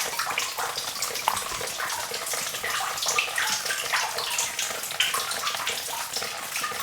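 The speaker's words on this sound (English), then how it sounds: "With water that's just dripping in." Water pours and drips steadily into a flooded old coal mine, a dense, hissing splash of many droplets that fills the space continuously and loudly with no voices.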